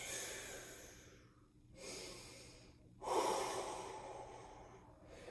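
Three deep breaths during a karate warm-up, each a long, close, audible inhale or exhale through the nose, separated by brief pauses, with no speech.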